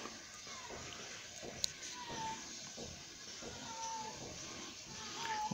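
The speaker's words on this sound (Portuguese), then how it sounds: "O gato parece que tá miando." A cat meows outdoors near a backyard aviary of canaries, a few faint drawn-out cries rising over a steady wash of ambient noise.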